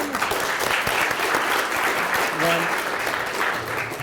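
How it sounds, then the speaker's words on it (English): Audience applause fills a talk on a song and its brand, with steady dense clapping throughout and a brief voice or tonal sound rising partway through. "Let's give him another round of applause."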